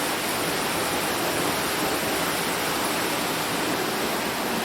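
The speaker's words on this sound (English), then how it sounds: "And there's the sluice gate." Water pours through the sluice gate of a wooden sawmill, a loud unbroken rushing roar that stays even throughout with no voices over it.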